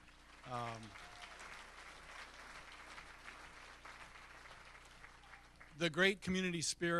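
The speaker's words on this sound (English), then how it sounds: "I want to just have you all give yourselves another round of applause" Audience applause fills a banquet hall at a community Riverfest Commodore event, a steady broad wash of clapping that runs for several seconds, with a voice speaking briefly before it and again as it fades.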